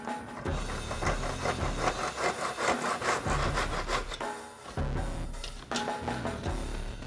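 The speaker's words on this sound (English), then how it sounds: "I'm going to use our miter box just to start our cut." A hand saw cuts through wire coat hangers set in a miter box, with steady back-and-forth rasping strokes, loud and close, pausing briefly between runs of sawing.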